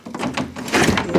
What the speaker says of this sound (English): Let's get the door closed.